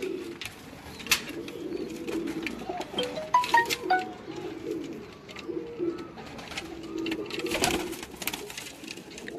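Pigeons kept at a rooftop loft in Multan coo steadily in low, rolling murmurs, with faint fluttering and rustling nearby and no voices.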